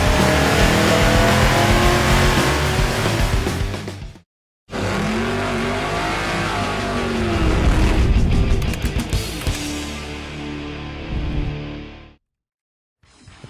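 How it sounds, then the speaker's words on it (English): A Ford 363 V8 growls and revs loudly up close, with sustained rumbling throttle bursts, a brief cut in the middle, and rising and falling engine pitch before it shuts off. "You've heard the growl of the Ford V8."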